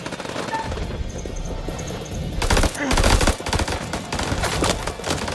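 Rapid automatic gunfire and single shots in the video game House of Ashes, loud and close, with dense bursts building toward the middle and continuing in irregular volleys to the end.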